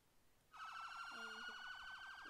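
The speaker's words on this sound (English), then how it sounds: "Oh, you can hear his siren." A police car siren in the Roblox ER:LC video game wails steadily with a fast warbling pulse, fairly faint and distant, with no talking over it.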